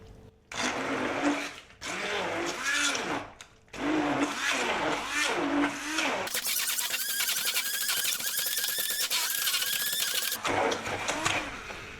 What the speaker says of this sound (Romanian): Apoi pasăm totul cu un blender vertical.